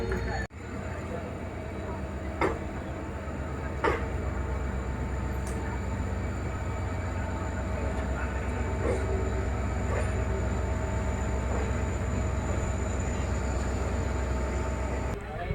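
Train pulling out of a junction station on the line toward Bantwal, a steady low rumble with occasional sharp clanks, heard from on board and continuous throughout.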